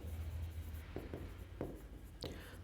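Pen writing by hand on paper during a computer science lesson, soft scratchy strokes in short bursts over a steady low hum, close and quiet.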